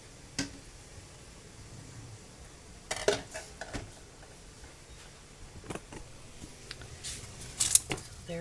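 Glass canning jars clink and knock as they are set into a canner, several sharp scattered clatters over a quiet background.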